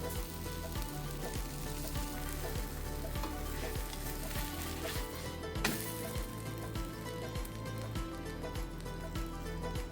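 Flattened breakfast dough pieces sizzle steadily in a non-stick pan, a dense crackling fry with a soft scrape of stirring and a brief louder clatter midway, close and without talking.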